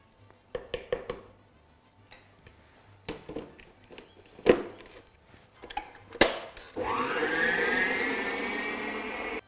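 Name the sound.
butter being mixed for cupcake batter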